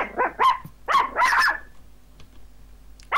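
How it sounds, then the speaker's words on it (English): A puppy yaps and growls in a few quick, close bursts, snappy barks mixed with rough growl, then falls quiet before one more bark at the end. "That's a dog."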